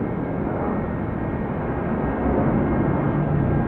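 A Qantas airliner at Sydney Airport makes a continuous, broad roar of jet engines that stays loud and steady and swells a little toward the end, with no voices.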